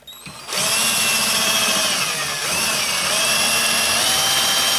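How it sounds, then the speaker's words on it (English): A power drill from Harbor Freight drilling out pinball flipper inlane parts: a loud, close, steady high whine that starts after a brief pause and runs on with slight pitch dips as the bit bites. "So, you want to drill these out"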